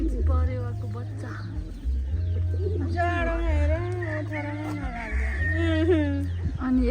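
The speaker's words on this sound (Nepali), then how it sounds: "यता परेवा पनि छ कस्तो राम्रो परेवा बच्चा" Pigeons and pigeon chicks at an urban farm give soft cooing and chirping calls, close and fairly steady, over a low rumbling background hum.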